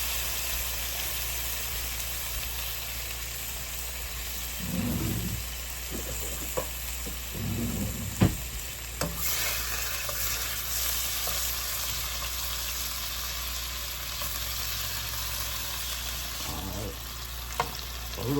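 Shrimp frying in extra virgin olive oil, a steady close sizzle and hiss throughout, with occasional clinks and stirring scrapes.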